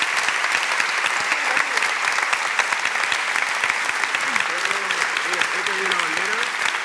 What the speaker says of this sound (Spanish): le pido otro aplauso